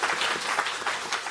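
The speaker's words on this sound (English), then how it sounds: "Everyone give yourselves a round of applause" Audience applause at the close of the MozFest House festival in Amsterdam, a fairly soft, even spread of clapping from a gathered crowd, heard alone without speech.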